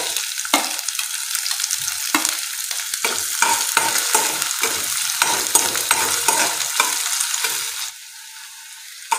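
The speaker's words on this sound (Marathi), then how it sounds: "आता आपण यामध्ये जो आपण कांदा चिरून घेतलेला आहे तो टाकूया।" Chopped onion frying in a pan for vegetable manchow soup, steady close sizzle with continual rhythmic stirring scrapes throughout, fading slightly near the end.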